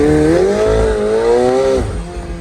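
2022 McLaren 720S Spider accelerating hard, a loud, close engine roar rising steadily in pitch through the revs, then easing off after about two seconds.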